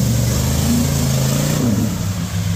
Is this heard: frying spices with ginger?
no